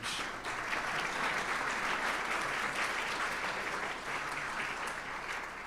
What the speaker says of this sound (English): You can applaud on that one because that was huge.